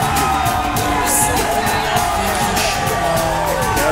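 A wrestling arena crowd cheers a celebration, a loud, sustained roar of whoops, yells and shouting that fills the space without letup.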